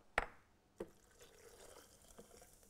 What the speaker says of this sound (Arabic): وهنحط ميه فواره